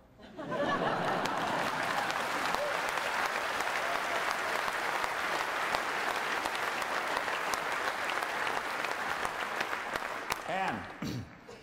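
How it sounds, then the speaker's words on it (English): A lecture-hall audience breaks into loud, sustained applause with scattered laughter and chatter mixed in, rising quickly and holding steady before tapering off near the end. "You can applaud."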